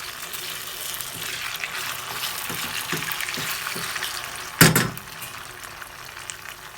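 Tomato paste and ketchup sautéing in a pan for a sauced pasta give a steady, close frying hiss with soft stirring taps, then one sharp louder scrape near the end.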